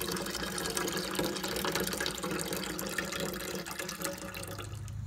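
Homemade apple cider pours into a container in a continuous splashing, trickling stream that stays fairly steady, then a lower fill tone rises near the end as the vessel fills.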